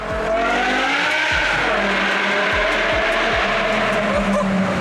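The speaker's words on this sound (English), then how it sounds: "after installing the F5 exhaust. The car sounded absolutely amazing." A loud, high-revving V10 engine in an E60 BMW M5 with an aftermarket F5 exhaust roars continuously, with sharp rhythmic pops and bangs from the exhaust as the throttle is worked.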